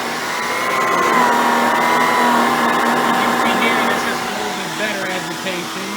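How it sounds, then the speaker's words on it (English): An Electrolux Epic 6500 vacuum cleaner runs with its brush roll motor switched on: a close, steady droning whine with a faint warble that swells slightly midway, then settles. "Now let's go ahead and turn the brush roll on for this. It has a different sounding brush roll motor."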